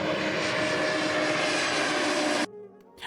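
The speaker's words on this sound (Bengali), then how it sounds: "আমরা দুবাই থেকে ফ্লাই করি মদিনার উদ্দেশ্যে।" A steady, loud cabin roar from an airliner's engines on a flight from Dubai to Medina fills the space evenly, then drops sharply to a quieter hum near the end; no talking.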